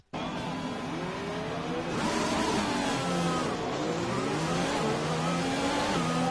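Formula 1 car engine in the F1 2020 game, racing for Jaguar at Bahrain, revving loudly at the race start with rising and falling pitch sweeps as it accelerates through gears, no talk.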